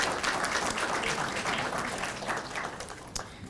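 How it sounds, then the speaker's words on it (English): An audience at an International Education Week opening ceremony applauds guests, steady dense clapping that gradually fades, with a few sharp individual claps toward the end. "if you can give them a round of applause for joining us today"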